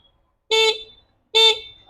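Two short, bright honks from a small electric horn, evenly spaced, each a clear buzzy toot standing out against silence.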